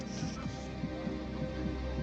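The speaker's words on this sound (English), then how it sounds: "The heartbeat really, which we use very, very emphatically and very effectively, really it takes the place of music" A film soundtrack heartbeat effect from a prison drama set in Turkey beats as a steady, muffled low double thump repeating about every half second under a sustained droning hum, with no speech.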